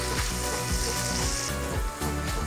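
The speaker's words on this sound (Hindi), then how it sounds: "इन सॉसेज और मसालों में चिकन को 1 मिनट तक के अच्छे से फ्राई होने देंगे" Chicken pieces frying for pasta in dark soy sauce, other sauces and spices, giving a short, dense sizzle close up with a few sputtering bursts and no speech.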